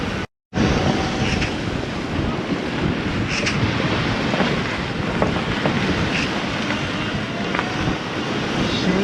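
Strong southwesterly wind on Avşa Island, Turkey, roars and buffets steadily for several seconds, a dense rushing noise with surf-like texture and no speech.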